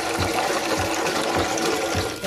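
Water splashing and trickling steadily as eggs are gently washed by hand, with soft rhythmic sloshing bumps roughly every half second and no talking.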